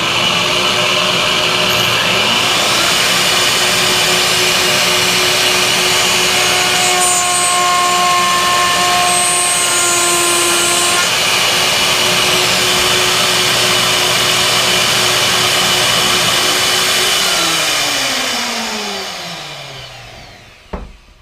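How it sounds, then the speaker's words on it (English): A shop vac roars steadily while a Festool OF 1400 router whines through a couple of quick cuts, the motor pitches shifting over the constant suction before both wind down at the end. "I'm going to turn the vacuum on and make a couple quick cuts"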